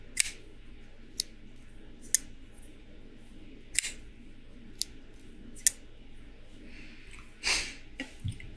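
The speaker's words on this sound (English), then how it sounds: "The blade's smaller when it closes, so it just makes a little tink." A small folding knife blade snaps shut several times, each closure a light, crisp little tink spaced a second or so apart over a quiet background, with a slightly louder rustle near the end.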